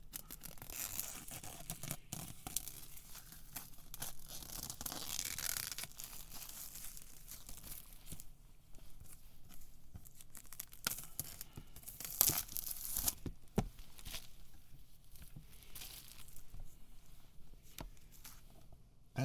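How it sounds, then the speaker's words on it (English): Protective wrapping being peeled off a Beatles singles collection box set, with close crinkling and tearing plastic in uneven bursts, louder near the start and again around the middle, with no talking. "we're going to open it now. So I'm peeling back"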